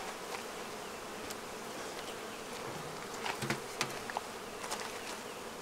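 Honey bees swarming around a queenless Flow Hive, a dense continuous buzzing close at hand with individual bees droning past, and no voices.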